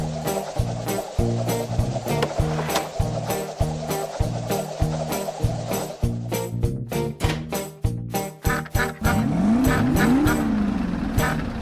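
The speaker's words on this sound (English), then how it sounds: "The engine." Cartoon car engine running in a children's vehicle-building animation, a busy looping motor rhythm with choppy revving bursts over background music, ending in a louder sustained roar with rising whooshing tones.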